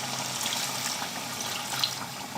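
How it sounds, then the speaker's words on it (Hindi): Water is poured into chicken karahi cooking in a pan, a continuous soft splashing stream at close range that stays even and unbroken for the whole moment, with no talk over it. "अब मैं थोड़ा सा पानी डाल रही हूँ,"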